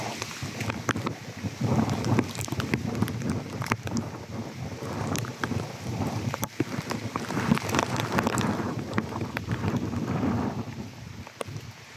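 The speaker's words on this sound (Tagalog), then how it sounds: "Malakas hangin." Heavy typhoon wind in Benguet roars continuously, with rushing gusts and scattered rattling and tapping debris throughout, and no one speaking.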